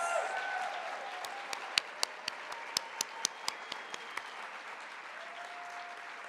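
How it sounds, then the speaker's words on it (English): A conference crowd at an awards ceremony for education support professionals applauds itself, a steady roar of clapping with sharp individual claps standing out near the front and a faint voice at the start and end. "give yourselves a round of applause"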